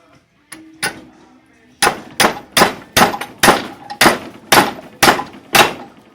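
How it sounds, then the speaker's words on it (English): Sharp metallic hammer blows ring out while bending metal for an ammo can side bag, two scattered strikes and then about nine evenly spaced heavy clangs, loud and close. "I used a hammer"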